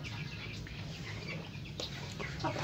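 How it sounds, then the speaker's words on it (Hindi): Chickens clucking softly while eating their feed on a farm, several birds making short, scattered clucks close by over a low, steady background. "मुर्गे शौक से खाते"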